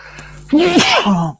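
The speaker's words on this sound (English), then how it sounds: "I need to sneeze" One person gives a single loud, close sneeze with a voiced, drawn-out release, preceded by a brief quiet intake of breath.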